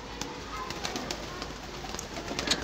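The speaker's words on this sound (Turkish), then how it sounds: "Bizim bir ön sokakta Balkonda kuşlar besliyor." Pigeons coo softly on a balcony amid faint background ambience, with scattered bird calls and occasional flutters.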